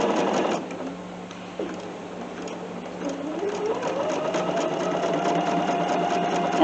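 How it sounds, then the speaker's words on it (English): A Bernina sewing machine stitching at an unhurried pace, a close, steady mechanical whir with rhythmic needle clatter that pauses briefly and then picks up again with a rising motor tone. "Your Bernina is a magnificent machine."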